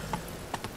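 Horse hooves clop faintly two or three times on the ground in The Witcher 3 game, quiet and brief.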